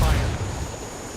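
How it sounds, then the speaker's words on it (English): A frag grenade detonates in Ghost Recon Wildlands, a single deep booming blast that hits at once and rumbles away over about a second. "Tossing grenade, watch it. Frag out."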